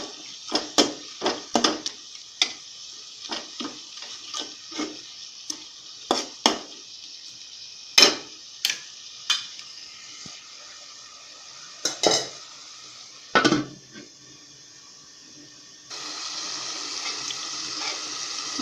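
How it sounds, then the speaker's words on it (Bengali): Cow tripe stir-fried with green chillies and spices, a metal spatula scraping and knocking in a pan in an irregular run of sharp strokes over a low sizzle that swells into a steady loud hiss near the end. "এখন আমি এগুলা খুব ভালো করে কষিয়ে নেব।"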